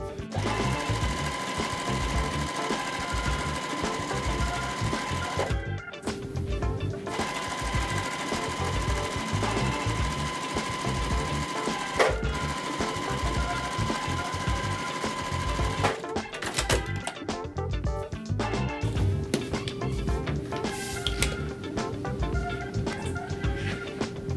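A sewing machine runs loud and steady, stitching quilt half-square triangle pieces with 1/4-inch seams, its motor humming in long continuous bursts broken by a few short pauses.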